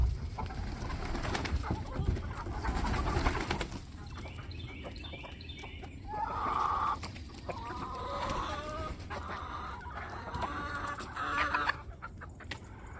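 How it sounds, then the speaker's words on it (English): A flock of hens and roosters in a backyard shed and yard in the morning, with dense overlapping clucks and coos, a burst of louder calls midway, and a steady murmur of birds throughout. "As you guys can see, we have a lot of chickens."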